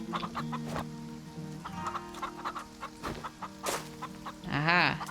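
Farm Together game chickens cluck in short, choppy bursts over a soft background music bed, ending with a louder drawn-out squawk near the end.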